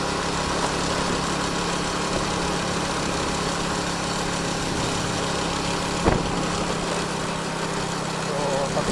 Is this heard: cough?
no